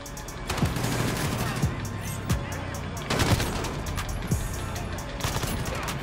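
Shotgun blasts in a multiplayer shooter video game, several sharp booming shots spaced a second or so apart over a constant bed of game noise and distant gunfire.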